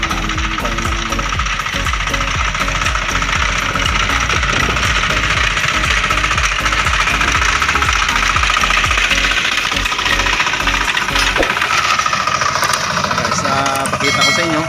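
Hand tractor engine working a field for peanut planting, a loud close steady diesel chug with rattling knocks and mechanical clatter throughout, no break in the noise.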